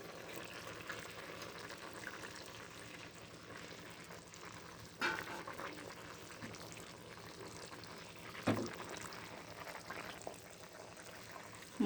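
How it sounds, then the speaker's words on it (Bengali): Tilapia curry simmers in a pot, a steady, soft bubbling with faint sizzle and two brief clinks partway through, no voices. "এভাবে 3 মিনিট আমি ফুটাবো"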